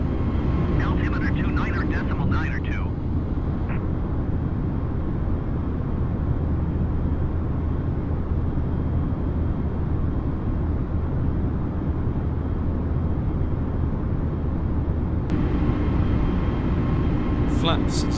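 Engines of an Aer Lingus airliner climbing out of Dublin in the Flight Simulator 2020 game roar as a steady, loud, continuous drone, while a pilot's voice talks over it.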